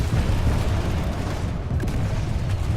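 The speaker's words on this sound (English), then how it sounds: "Some explosions going on back here." Explosions in the online shooter Planetside 2: a dense, continuous low rumble of distant blasts and booms, fairly loud and unbroken, with no talking.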